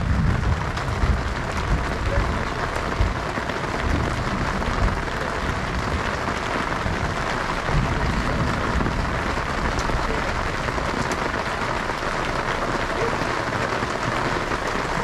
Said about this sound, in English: It's actually raining really good.